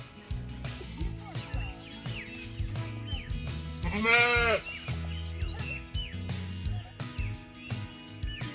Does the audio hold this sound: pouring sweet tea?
no